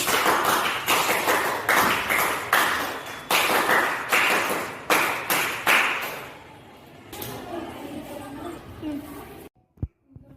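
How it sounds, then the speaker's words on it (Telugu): Students in a government school classroom clap together in a burst of rhythmic applause for several seconds, then the clapping fades into quieter room noise with a few sharp knocks near the end. "అందరూ క్లాప్స్ కొట్టండి."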